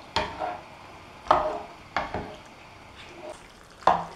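A spoon stirring tomato paste, water and fried cuttlefish in a cooking pot, five or six separate scraping knocks against the pot at irregular intervals, close and clear with quiet pauses between.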